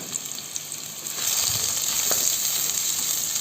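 Sliced onions sizzle in hot oil in a pan, a steady close frying hiss that swells after a second as they are stirred, with a few soft scrapes.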